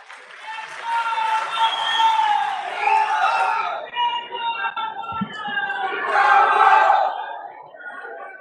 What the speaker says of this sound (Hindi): आप बहुत तालियां बजा रहे थे